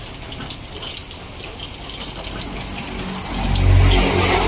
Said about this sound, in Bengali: জল এখানে জমাট বাঁধার পর ধীরে ধীরে এই জলরাশিগুলি সামনের দিকে প্রসারিত হয়ে যাচ্ছে